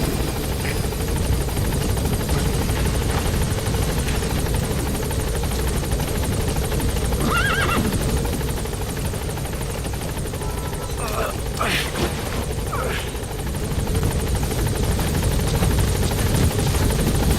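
Steady, loud rotor thrum of a helicopter hovering over a blocked landing zone in Metal Gear Solid V, continuous throughout with faint radio chatter and brief electronic blips over it.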